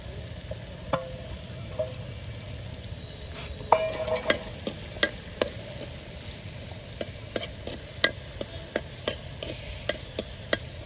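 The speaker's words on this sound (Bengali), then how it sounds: "সবগুলোকে ভালোভাবে ভেজে নিব।" Chopped onion, garlic and green chili fry in oil in a pan beside greens, giving a steady sizzle. Sharp clicks of a spatula stirring and scraping break through it at a regular rhythm.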